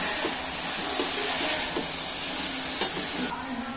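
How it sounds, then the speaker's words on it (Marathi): Mixed vegetable bhaji stirred in a pan gives a close, steady sizzling hiss with faint scraping strokes, then a sharp knock near the end before the sound drops a little quieter. "आता मस्त ढवळून घ्यायचं."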